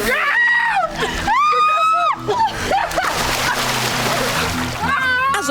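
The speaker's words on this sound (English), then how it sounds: "water is the perfect playing ground for splashing and squirting" Elephants splash and squirt in water, with steady sloshing and spraying under loud, rising and falling high-pitched calls, close and continuous.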